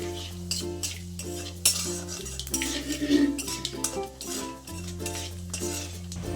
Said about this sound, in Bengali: একে একে মশলাগুলো দিয়ে কষিয়ে নিতে হবে